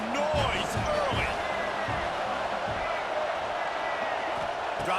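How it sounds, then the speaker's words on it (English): A stadium crowd in a college football video game keeps up a dense, continuous roar of cheering and whoops, with scattered thumps and shouts close in the mix. "This crowd bringing the energy and noise early."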